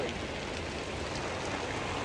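Heavy rain pours steadily in an outdoor spot, a close, even hiss of falling water with no pauses, fairly soft in level and with no talk over it.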